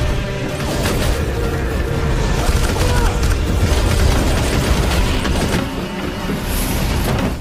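A film shootout with aliens, dense continuous gunfire and crashing action noise as fighters run down a corridor, loud and sustained throughout.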